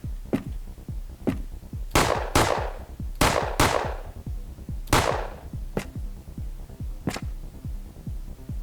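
Service pistol fire in the video game Rogue: Operator Trinity, a string of sharp single shots spaced irregularly, some louder and ringing, over a low steady hum.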